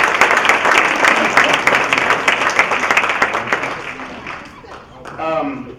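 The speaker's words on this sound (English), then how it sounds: "So I think he should be applauded." Audience applause at an installation ceremony: a loud, dense burst of clapping that slowly thins and fades, followed by a voice starting to speak.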